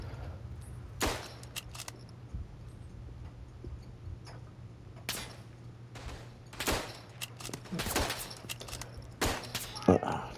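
Sharp, echoing rifle and gun shots crack sporadically across a World War I battlefield in the Verdun video game, some close and loud, others distant, over a low steady hum.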